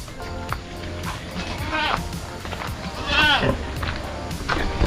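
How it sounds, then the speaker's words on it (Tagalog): Goats on a farm bleat in a few loud, wavering calls, one around the middle and another later, over steady outdoor background noise with voices in the mix. "Ito yung mga kambing nila Bayaw."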